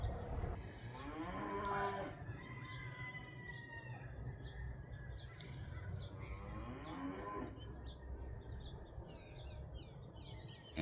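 A cow near a farmhouse on a homestead gives two long, low moos a few seconds apart, fairly close and clear, with a rooster crowing faintly in between and birds chirping in the background.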